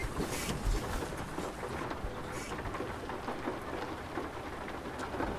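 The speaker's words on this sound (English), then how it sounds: "Proper thunderstorm. Listen to that rain," Dense thunderstorm rain hisses and patters continuously on a nearby surface in the Euro Truck driving game, a steady heavy downpour with occasional louder splashes and no speech.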